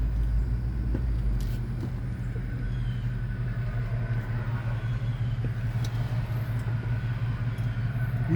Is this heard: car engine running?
yes